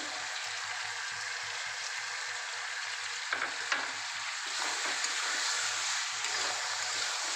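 Mutton kosha sizzles steadily in a pan with a cashew and poppy seed paste, as a spoon stirs and scrapes through it in irregular strokes over constant frying hiss.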